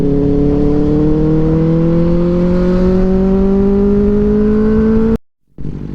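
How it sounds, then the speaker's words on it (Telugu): A motorcycle with a stock exhaust drones steadily at high revs, its pitch climbing slowly, then cuts out abruptly before rumbling back in. "స్టాక్ ఎగ్జాస్ట్ బేస్ సౌండ్ మాత్రం అసలు నెక్స్ట్ లెవెల్ ఉంటుంది"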